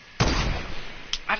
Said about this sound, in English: Go sniper.